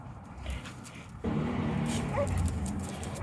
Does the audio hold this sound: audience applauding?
no